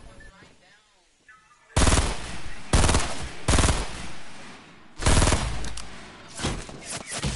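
Enemies fire at the player during a video-game match. After a quiet start, several loud, sharp bursts of automatic gunfire erupt in quick succession, close and dense.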